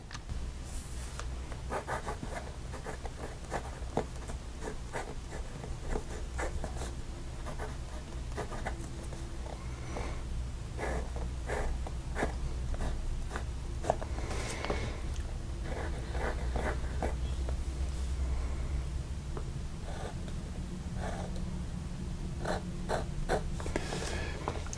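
A fountain pen with an architect-ground nib, fitted to a PENBBS 323, scratches steadily across paper in a continuous run of soft, close strokes with brief pauses between them. No one speaks.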